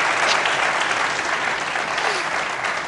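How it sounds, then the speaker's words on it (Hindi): Loud, dense studio-audience applause, a continuous close roar of clapping hands that holds steady for a few seconds and fades slightly at the end. "मैं तालियां बजाऊं, सच्ची वाली,"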